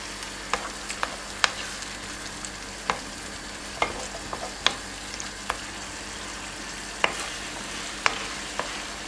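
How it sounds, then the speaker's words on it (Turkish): Tomatoes frying in a pan with tomato paste for stuffed peppers cooked in olive oil, a soft continuous sizzle broken by regular sharp clicks and taps of a spoon stirring against the pan. "Salçamı kavurdum ve burada domateslerimi ekliyorum."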